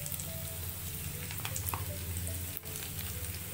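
Onion fries in a pan for a dry fish chutney as chili powder goes in, giving a close, steady sizzle with small crackles and faint clinks.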